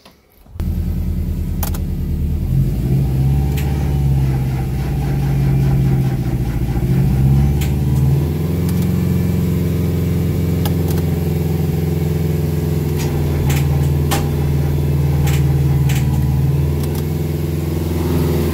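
A Mazda Miata engine cranks and catches, then settles into a steady, loud idle with a low rumbling hum and occasional ticking clicks from a noisy clutch release bearing.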